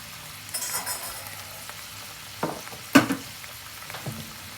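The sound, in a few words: butter sizzling in a pan with caramelizing food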